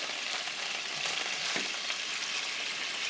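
Onions frying in a pan of olive oil mixed with oil from artichoke hearts give a steady, close sizzle with light crackle throughout, plus a faint stir or scrape partway through and no voices.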